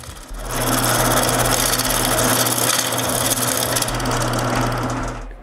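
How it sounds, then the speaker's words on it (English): A new wood lathe turns round wooden plugs for a small cyclone dust collector, a loud, continuous rough cutting and whirring with a steady motor hum that runs for about five seconds without talk. "Now with my new lathe, I'll turn them round."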